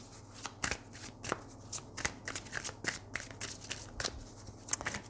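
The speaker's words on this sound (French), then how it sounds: "Alors oui, on va prendre une carte de l'oracle d'Amaham." Oracle cards being shuffled by hand, a series of crisp riffling bursts and soft slaps at an uneven rhythm, close and fairly quiet with no talking.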